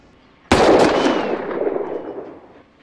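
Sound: gunshot from a revolver being fired

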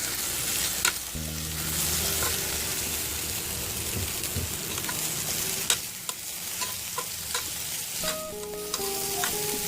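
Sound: stirring and frying brinjal pieces for masala curry

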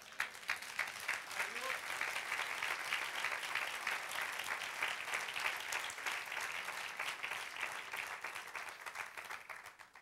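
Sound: audience applause in church

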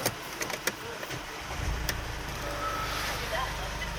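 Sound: Mercedes-Benz GLC220d diesel engine starting

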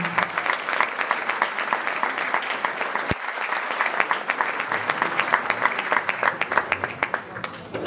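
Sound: audience applause

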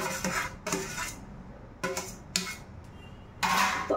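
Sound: ground beetroot being stirred and roasted in hot ghee in pan

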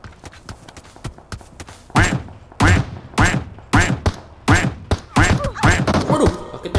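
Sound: enemy gunshots hitting player in PUBG, video game

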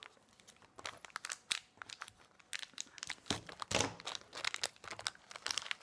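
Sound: tearing open a blind bag packet

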